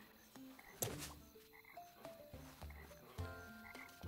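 Frogs croak in the video game The Plucky Squire, a faint series of short throaty croaks repeating irregularly against a quiet background.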